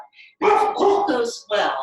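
Indoors during a home yoga session, a dog lets out a few sharp barks in quick succession, closely overlapping a woman giving spoken instructions.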